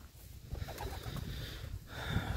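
Soft, low coos of yellow Czech show pigeons repeat close by in an enclosed loft, with faint rustling and shuffling between calls.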